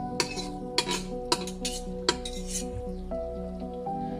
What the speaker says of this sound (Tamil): கொஞ்சம் சீரகம், சோம்பு, கொஞ்சம் கேஷ்யூ நட்ஸ் இது போட்டு தாளிச்சிக்கலாம்.